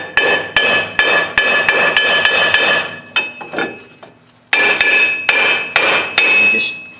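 Sharp metallic hammer blows strike a rusted, seized parking brake adjuster on a 2005 Chevrolet Suburban 1500, coming in quick, ringing bursts of regular strikes separated by a short pause.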